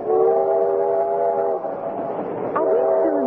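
A steam train in a radio drama, swaying and bouncing along the rails with a hissing steam engine, heard as a loud, steady rumble with a harmonic whistle-like tone fading in and out.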